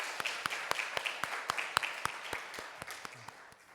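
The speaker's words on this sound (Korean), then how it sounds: "우리 하나님께 영광의 박수를 올려드립시다." A church congregation at a Sunday afternoon worship service claps, sharp distinct claps falling in a quick, fairly regular rhythm, soft and somewhat distant, gradually thinning toward the end.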